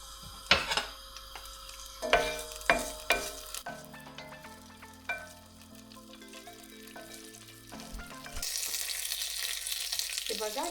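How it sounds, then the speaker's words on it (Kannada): Mustard seeds and curry leaves spit and crackle in hot oil, several sharp pops early on giving way to a steady sizzle that thickens into a dense hiss near the end, with some clatter of a pan; no one speaks. "ಸೊ ಆಯಿಲ್ ಹಾಕ್ಬಿಟ್ಟು ಸಾಸಿವೆ ಹಾಕ್ತೀವಿ ಆ್ಯಂಡ್ ಕರ್ಬೇವಿನ ಸೊಪ್ಪು."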